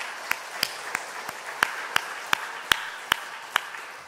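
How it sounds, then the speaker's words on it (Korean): Applause from a church congregation during a worship service, heard as a slow, steady run of sharp, distinct claps spaced evenly apart rather than a dense roar. "그분들 격려의 박수 주시기 바랍니다"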